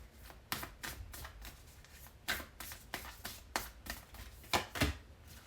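Oracle cards are shuffled by hand during a tarot reading, a string of soft papery riffles and flicks in uneven bursts, close but quiet, with no one talking.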